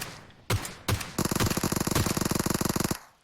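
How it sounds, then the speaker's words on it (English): Gunfire in a competitive squad shooter, with two loud single shots followed by a long, rapid automatic burst of evenly spaced cracks, loud and close with no talk. "Seems to have heard the gunshots"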